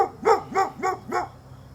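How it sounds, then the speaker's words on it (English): A neighbor's dog barks four times in a steady rhythm, each bark clear and moderately close, with a quiet outdoor backdrop and no talking. "neighbor's dog, sorry."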